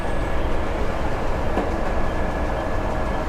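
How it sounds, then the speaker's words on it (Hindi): A metro bus on the Peshawar Morr to New Islamabad Airport route travels between stations with a steady, fairly loud rolling rumble and drone, without speech. "जिसके बाद जो बस है वो अपने नेक्स्ट स्टेशन के लिए रवाना होती है।"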